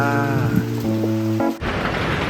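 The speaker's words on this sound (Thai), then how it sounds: "ก็อย่างที่เห็นเลย ฝนตก" Morning rain falls on Koh Samui as a broad, steady hiss. It follows a brief tonal passage and fills the last part of the clip loudly.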